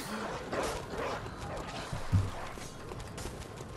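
A dog in the video game Bloodborne barks and yips amid a dense wash of game noise, with a brief sharper thud partway through, moderately loud and close.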